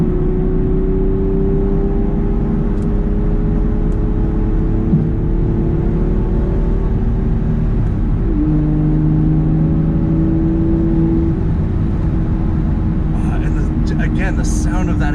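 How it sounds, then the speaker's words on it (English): A 2017 Aston Martin V12 Vantage S Coupe's engine and exhaust drone and rise in pitch as it accelerates, steady and loud from inside, with a gear change midway and brief speech near the end. "the sound of that exhaust is so good"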